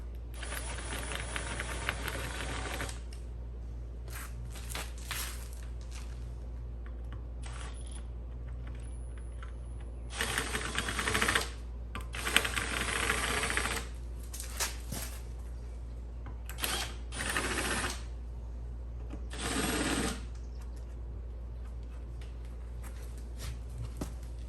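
A drill with an oversized bit lightly bevels the edge of a hole during a sideskirt install on a Subaru Impreza GF8 wagon, heard as several short whirring bursts separated by quiet pauses over a steady low hum.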